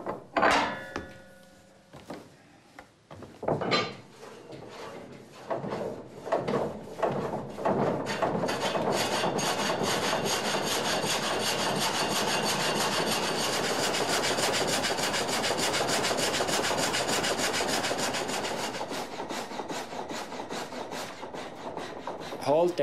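An old sawmill's blade starts with a few knocks and clunks, then bites into wood in a long, loud, steady rasping cut that fades near the end, close and alone.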